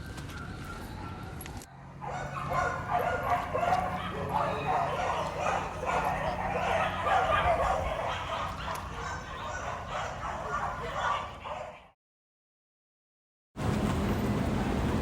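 A two-year-old shelter dog yips and whimpers in a busy, continuous stretch amid background voices, then cuts to silence before noise resumes.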